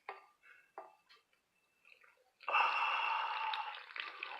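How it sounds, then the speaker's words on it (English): Water is poured into a mixing bowl to make tortilla dough, a steady splashing pour that follows a few soft clinks and handling noises. "I'll let you see me pour the water in."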